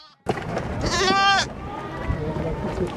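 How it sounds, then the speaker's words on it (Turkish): Newborn lambs, first offspring of breeding ewes handed out to livestock farmers, bleat in a loud wavering cry near the start, followed by busy farm noise and a voice talking. "Getir kızım getir kuzumuzu."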